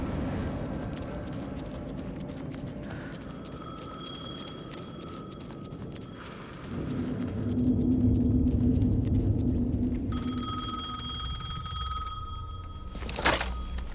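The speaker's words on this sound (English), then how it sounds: "The phone again." In the video game Alan Wake II, a telephone rings in repeated electronic bursts over a dark, rumbling ambience, with heavier low thuds swelling in the middle and a sharp hit near the end.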